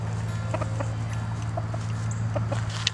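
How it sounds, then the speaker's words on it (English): Silkie roosters give soft scattered clucks and short calls, fairly near, over a steady low background hum, with no talking. "I'm very surprised how friendly these silky roosters are."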